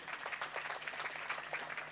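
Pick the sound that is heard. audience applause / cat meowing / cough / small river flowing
audience applause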